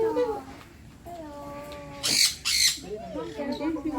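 Birds at a farm give two short, harsh squawks in quick succession, heard among children and adults talking nearby.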